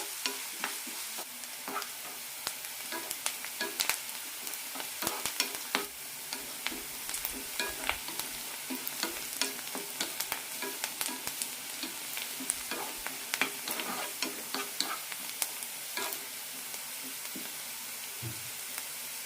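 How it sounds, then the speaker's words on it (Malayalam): Chopped onions sauté in a pan for soya chunks tikka masala, a steady crackling sizzle with repeated ladle scrapes and clicks throughout, fairly close and without talk. "സവാള നന്നായി ഒന്ന് ചോന്ന് കിട്ടണം അതുവരെ വഴിക്കാം"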